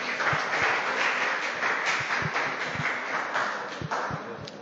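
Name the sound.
audience applause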